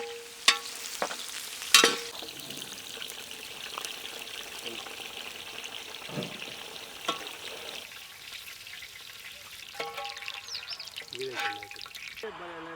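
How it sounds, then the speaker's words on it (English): Okra fries on a high flame in a pan, a soft continuous sizzle broken by sharp utensil clinks and stirring scrapes, close up with faint speech in places. "This okra 5 to 7 minutes fry on high flame."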